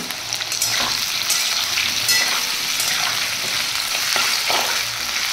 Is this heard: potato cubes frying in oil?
yes